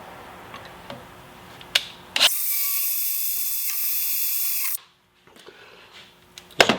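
A power drill whirs steadily for a few seconds, loud and close, drilling a hole for an oil can holder in a garage, then cuts off; quieter handling clatter before and after.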